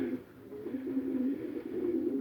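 Pigeons cooing in a loft, soft low rolling coos that carry on continuously at a quiet level, close by, with no speech over them.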